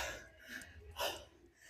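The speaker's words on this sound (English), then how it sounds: "Despite all the heavy breathing here, you can hear right now." Heavy, ragged breathing up close after reaching level 13 of a beep test, a few loud gasping inhales and exhales like someone winded after running.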